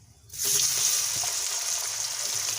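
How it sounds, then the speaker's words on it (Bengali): Cumin, bay leaf and a dry chilli hit hot oil in a wok, starting a sudden loud, steady sizzle that continues evenly to the end with no talking. "এবারে আমি কড়াতে জিরে তেজপাতা আর একটা শুকনো লঙ্কা ফোড়ন দিলাম"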